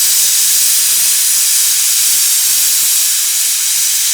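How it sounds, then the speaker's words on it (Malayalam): A pressure cooker cooking beef vents a steady, loud hiss of steam that holds at an even level throughout, with no talk. "മച്ചാമാരെ ഇത് ചീറ്റാൻ തുടങ്ങി."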